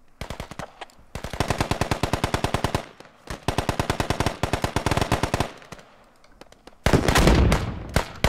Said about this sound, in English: Guys, they are shooting from the school.